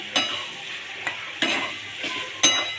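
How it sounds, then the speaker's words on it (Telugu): Prawns fry in hot oil for a prawn biryani, a steady bright sizzle broken by four sharp scrapes of a spoon stirring the pan, loud and close with no talk. "బాగా వేపుకోవాలి చూడండి ఆయిల్లో బాగా వేగాయి కదా"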